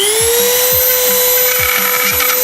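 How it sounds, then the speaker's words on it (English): A Dremel rotary tool whines steadily at high pitch, close and loud, as it carves a small hole into the plastic nozzle of a glue bottle, with no pauses through the whole stretch. "We're gonna use the Dremel to carve a little hole inside"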